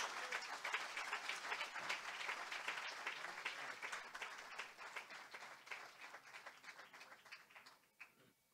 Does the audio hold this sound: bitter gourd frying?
no